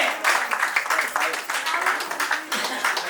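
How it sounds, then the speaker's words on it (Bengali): An anniversary-event audience claps in a bright, uneven patter of many hands that swells and dips over several seconds, mixed with voices from the crowd. "সবাই জোরে হাততালি দিতে গেল"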